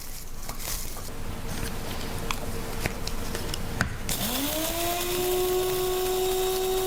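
An electric spice grinder whirs up to speed and holds a steady, close, loud whine as dried chili peppers are ground into powder, after a few seconds of light tapping and rustling from peppers being broken up and loaded.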